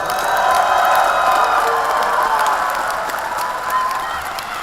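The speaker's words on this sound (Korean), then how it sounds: "큰 격려의 박수 부탁드립니다" A crowd at a political party delegates' convention applauds in support of Sewol ferry victims' families, a loud, sustained wash of clapping with some cheering that holds steady and then eases slightly.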